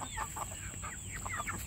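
Farm chickens, including silkies and a rooster, cluck in short soft bursts that repeat through the moment, fairly faint against a steady high whine and low background hum.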